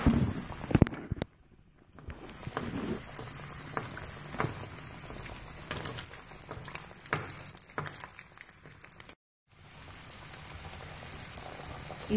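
Chicken pieces frying in hot ghee over a medium flame: a steady, close bubbling and crackling hiss with scattered sharper pops and one brief drop-out near the end.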